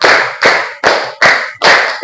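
Hand clapping in a steady rhythm, five sharp claps evenly spaced and close, loud, with no talking over them.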